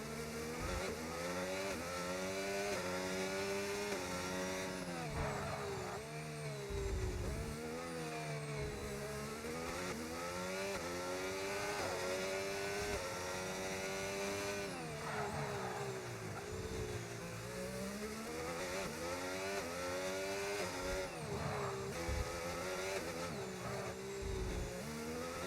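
Onboard race car engine in a racing video game during an out lap on the Azerbaijan circuit, holding a steady loud drone that rises and falls in pitch through repeated upshifts and downshifts, with no talking.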